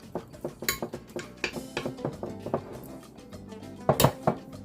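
Ingredients for a Cajun chicken and shrimp Alfredo being mixed in a bowl, with a run of close, uneven clinks and scrapes of utensil against the dish, a few sharper knocks near the end.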